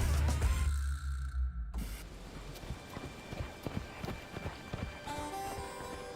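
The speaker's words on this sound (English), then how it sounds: "That sounds like hoofbeats." Camargue horses thunder past in a close run of hoofbeats, a dense irregular clatter that follows a loud low rush at the start and carries on steadily to the end.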